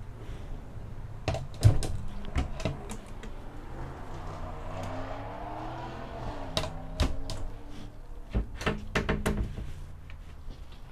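Large, deep drawers in an off-road travel trailer being opened and closed, a series of sharp clacks, thumps and sliding rumbles spread across the stretch, fairly close, with no talking.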